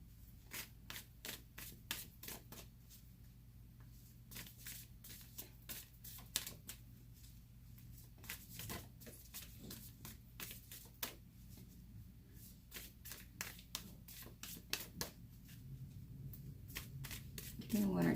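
Tarot cards are shuffled and handled close up during a reading, making a quick run of crisp riffling snaps and slaps in irregular bursts, with brief pauses between them.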